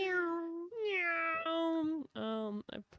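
A cat meows several times in a row, close and loud, with long drawn-out cries followed by shorter chirping calls.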